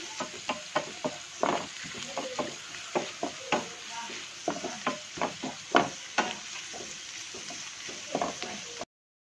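Onions fry gently in a pan for paneer cashew butter masala curry, a faint sizzle under repeated light taps and scrapes of a spoon stirring.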